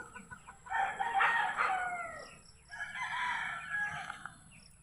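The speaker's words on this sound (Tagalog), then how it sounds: "Ito na may mga manok." A rooster crows twice in a row, each call long and drawn out, fairly distant, with faint clucking of chickens in between.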